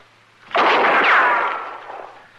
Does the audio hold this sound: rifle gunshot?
yes